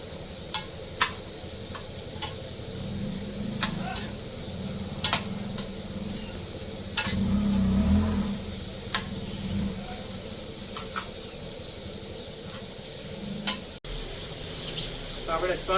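A spoon stirs cut carrots and cabbage in a hot pan for momos. Sharp scraping clicks land at irregular intervals over a low, steady sizzle that swells briefly midway.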